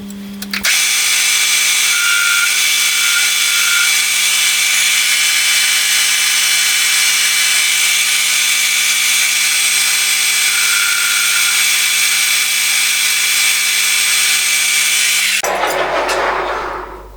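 Lathe turning bushes for a faceting machine rebuild: a loud, steady machining whine with constant tones holds for about fifteen seconds, then cuts off abruptly into a brief rustle at the end.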